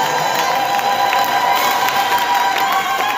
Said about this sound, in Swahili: Piga tena makofi na vigelegele kwa Yesu.